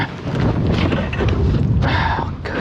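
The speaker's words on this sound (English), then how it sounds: "Told you it was windy." Strong wind buffets the microphone beside a river in winter, a loud, continuous low roar with rough gusting surges and no clear pauses.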